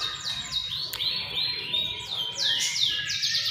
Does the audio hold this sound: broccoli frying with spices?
no